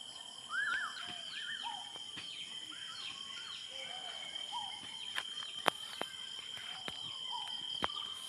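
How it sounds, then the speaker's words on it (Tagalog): Birds call at night around a rural farmhouse. Their chirps and whistles are scattered and moderately distant, set over a steady insect drone, with a few sharp clicks between the calls. "Yung sari-sari yung maririnig nyo dito na huni-huni tuwing gabi."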